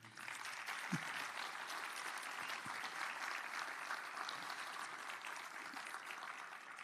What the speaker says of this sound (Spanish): quiero también brindar un aplauso para nuestros brigadistas y nuestros guardaparques